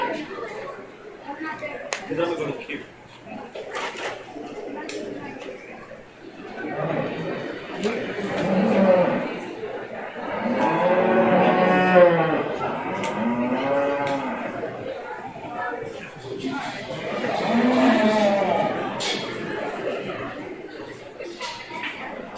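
Hereford cattle at a 4-H beef show moo repeatedly in long, loud, harmonic calls, several overlapping through the middle and again near the end, over a steady indoor crowd murmur and announcer-style talk.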